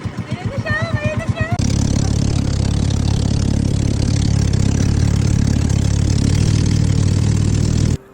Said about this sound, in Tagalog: Sa maliit naman na bangka or taxi-taxi